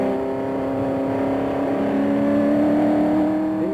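A race car from the 1968 24 Hours of Le Mans pulls away down a short straight toward Tertre Rouge, its engine note climbing steadily as it accelerates, loud and sustained with no speech over it.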